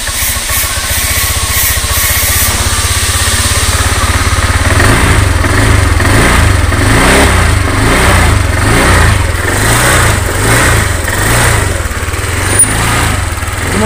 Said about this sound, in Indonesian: Motor ini nyala sobat